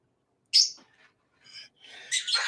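Pet birds chirping indoors, with a sharp high chirp followed by softer warbling calls and a louder burst of twittering near the end, close and clear with no talking.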